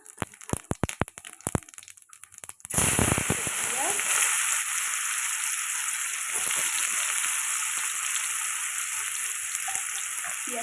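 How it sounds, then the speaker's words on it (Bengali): Bay leaves and whole garam masala go into hot oil left from frying fish: after some sharp crackles, a loud continuous sizzle sets in and holds steady, close up. "মাছ ভাজার তেলে আরেকটু তেল দিয়ে দিয়েছে তেল গরম হয়ে গেছে তেজপাতা দিয়ে দিল তারপর দিয়ে দিল দিয়ে আর গোটা গরম মশলা"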